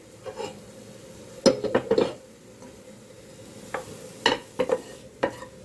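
Vegetables being stirred in a kadhai while cooking pizza toppings. Scattered spoon scrapes and clinks against the metal pan come in two short clusters, close and fairly soft, with no talking.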